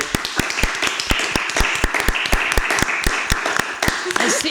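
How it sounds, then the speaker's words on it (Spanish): Television studio audience clapping in a final programme, a dense, close round of many hands with a steady fast rhythm, carrying on for several seconds with a voice briefly audible near the end. "Y os quiero dar yo a vosotros un aplauso ahora mismo, por favor."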